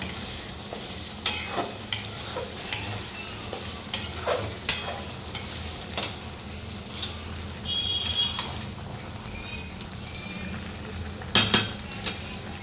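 Spices tempering in hot oil for a vegetable curry, a steady sizzle with scattered scrapes and stirring clinks of a utensil against the pan, close and moderately loud, no talking.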